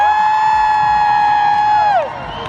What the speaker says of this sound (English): respond by clapping, whooping and cheering when we mention all of the schools and all the countries